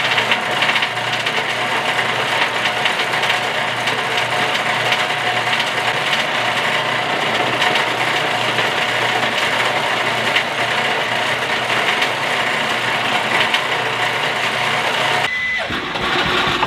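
A motor-driven rock crusher runs continuously as a loud, steady mechanical drone with rattling and grinding texture, close by, then changes abruptly near the end.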